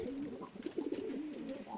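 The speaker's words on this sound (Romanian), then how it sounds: "Suntem la Porumbei." Pigeons coo softly at a pigeon loft, with several low, rolling calls overlapping in a continuous murmur, fairly faint and close.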